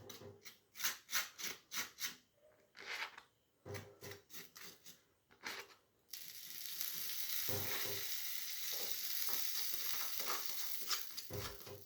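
Bread slices toast in butter in a frying pan for a sandwich. Around the midpoint a steady, fairly loud sizzle sets in and continues to the end, following a stretch of intermittent scraping and handling noises.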